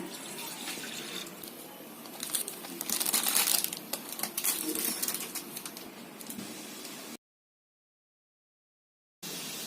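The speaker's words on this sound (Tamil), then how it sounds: "ஒரு டம்ளர் தண்ணி ஊற்றிடுங்க." Water splashes and rushes steadily into a cooking pot on the stove for several seconds, close and fairly quiet, then stops abruptly into silence.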